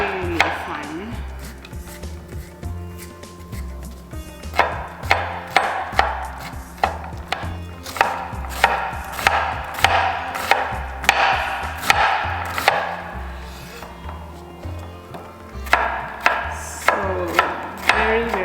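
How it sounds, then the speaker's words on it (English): A knife chops green chili finely on a wooden board in quick, close, rhythmic bursts of sharp taps, with short pauses between runs of cuts and no speech. "This is the green chili. I'm going to chop really fine."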